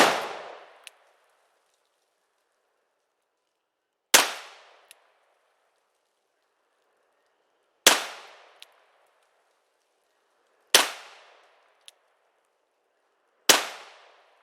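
.44 Magnum revolver firing midrange loads outdoors, five loud sharp shots spaced a few seconds apart, each followed by a short decaying echo and a faint metallic clink.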